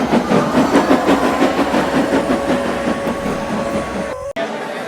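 A cartoon steam engine chuffs away in a steady rhythmic puffing with rail clatter, loud and continuous before cutting off abruptly near the end.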